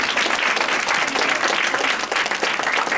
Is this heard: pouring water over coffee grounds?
no